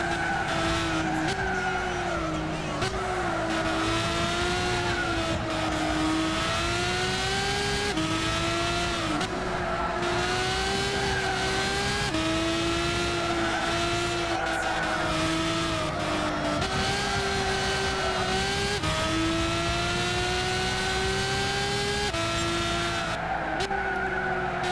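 Race car engines whine and rev in Gran Turismo 6, with a steady, close, loud drone rising and dropping through gear changes, plus occasional tire skids and no talking.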